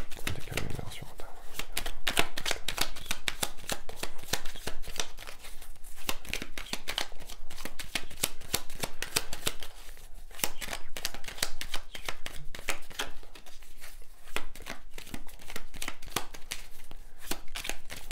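Tarot cards being shuffled up close, with rapid crisp riffling clicks and flutters repeating throughout while a person talks quietly over them.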